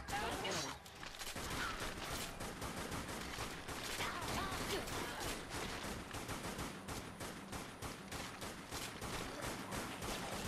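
Continuous rapid gunfire in the zombie shooter Dead Nation rattles without pause, faint and dense, with voices talking over it.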